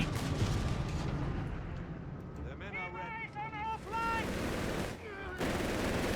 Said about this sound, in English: Machine gun there, unleashing hell up on the Recce section